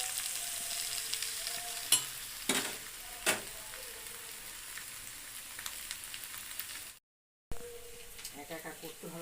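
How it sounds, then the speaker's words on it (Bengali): Boiled potatoes fry gently in a pan in a home kitchen, a soft continuous sizzle punctuated by a few sharp clanks of a utensil, with a brief gap and more clattering near the end. "আলুটা সিদ্ধ করে নিয়ে এবার সেখানে অল্প একটু ভেজে নিচ্ছি"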